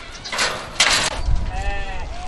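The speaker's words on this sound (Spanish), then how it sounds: "Cabras y algún camello que proporcionan leche y de vez en cuando carne." Goats and a few camels kept for milk and meat, gathered into small pens at the edge of desert camps at dusk, bleat in short, fairly close wavering calls over faint background noise.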